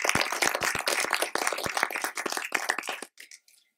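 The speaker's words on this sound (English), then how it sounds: "maybe we could listen to a warm applause from the audience for you" Audience applause welcoming an artist at a talk, dense nearby clapping that gradually thins into scattered claps and stops just before the end, with no talk.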